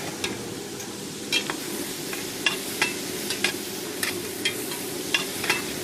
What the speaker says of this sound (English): We add in the masala and stir that well in with the onions.